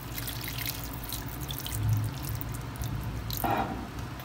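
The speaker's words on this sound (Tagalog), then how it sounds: "Medyo damihan na natin yung water dito." Water is poured into a pot of beef pares, a faint, continuous trickle and splash close by, with a brief louder gush near the end.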